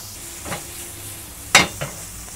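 Two or three short, sharp scraping bursts of a spatula in a hot wok stir-frying dried scallops and ginger, with a soft sizzle underneath, close and otherwise quiet.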